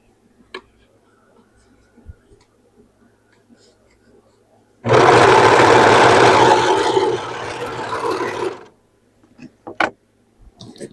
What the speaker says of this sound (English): I'm going to sew this.